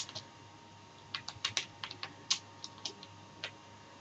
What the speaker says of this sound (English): So what you do is you start typing